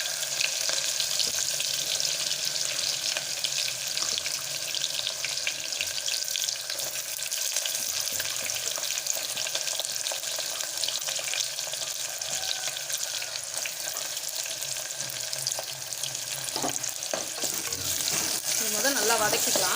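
Onions sautéing in a pan for hotel-style chicken kulambu, a loud continuous sizzling hiss throughout, with occasional scraping stirs near the end and faint voice in the background.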